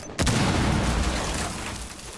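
Breach charge detonating in Rainbow Six Siege, a single sudden loud blast followed by a rumbling debris tail that slowly fades over two seconds.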